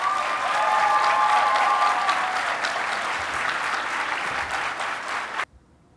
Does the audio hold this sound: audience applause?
yes